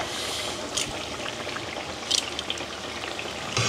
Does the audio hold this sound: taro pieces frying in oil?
yes